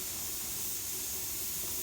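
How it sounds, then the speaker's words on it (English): Steam venting from a pressure canner, a loud continuous hiss blasting steadily from close by with no break or voices. "if you can see the steam coming out of that thing"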